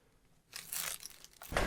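Plastic supermarket carrier bags from the Plus chain crinkling and rustling in a few close, dry bursts inside an abandoned farmhouse, with no talking.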